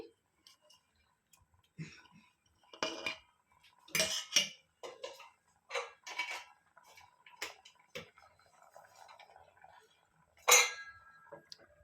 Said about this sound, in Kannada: ಈಗ ಒಂದು ರೌಂಡ್ ತಿರು ಕೊಟ್ಕೊಂಡು ಸ್ವಲ್ಪ ಕೊತ್ತಂಬರಿ ಸೊಪ್ಪನ್ನ ಹಾಕೊತಾ ಇದ್ದೀನಿ